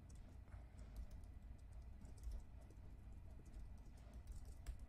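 Fingers typing on a computer keyboard, a faint, rapid, irregular run of light key clicks over a low background hum, no talk.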